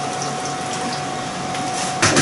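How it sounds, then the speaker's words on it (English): Water runs steadily into a pot of courgette soup as it is topped up, a continuous close pouring rush that swells louder at the end, with no talking. "I'm just going to put some more water in."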